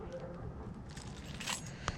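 Car keys for a Dodge Challenger jangle up close in a brief, light metallic rattle that ends with a sharp click, heard over faint background noise.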